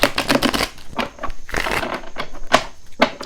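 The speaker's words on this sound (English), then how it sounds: "Two more shuffles." Playing cards being shuffled by hand during a card reading, a run of quick, dry riffling and tapping bursts, close and moderately loud, with no talk.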